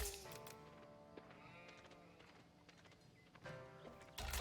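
Sheep in Age of Empires IV let out a few faint, quavering bleats mixed with soft hoof clops and game sounds, while a player talks over them.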